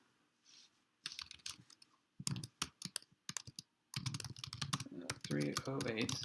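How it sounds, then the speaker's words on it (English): Fingers tap a computer keyboard during a live-streamed class lecture, with bursts of quick, close clicks between pauses and a voice speaking toward the end. "I'll type it in here at 3:08."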